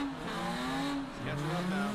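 A T35 race car's tires squeal and skid on the track at OKC Battle Royale 2021, a sustained wavering screech over a continuous engine drone, moderately distant.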